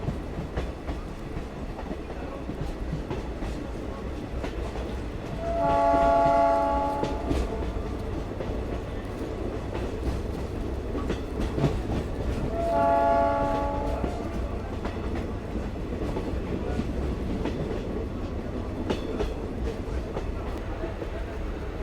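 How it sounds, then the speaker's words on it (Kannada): A train runs slowly, held to 30-35 km/h, through the Kali Tiger Reserve forest between Dandeli and Alnavar, its steady rolling rumble broken by two horn blasts several seconds apart. "ಈ ಸೆಕ್ಷನ್ ಒಳಗೆ ನೋಡ್ರಿ ಟ್ರೈನ್ ಸ್ಪೀಡ್ ಇಷ್ಟೇ ಇರೋದೈತಿ, 30-35 ರಿಸ್ಟ್ರಿಕ್ಷನ್ ಐತಿ."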